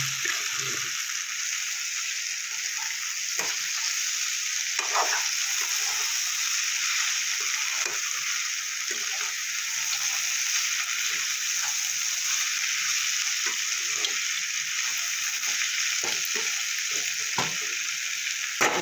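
Carrot, potato and pea curry with cumin sizzling steadily in a pan, continuous frying hiss with intermittent scraping clicks of stirring throughout, no talking.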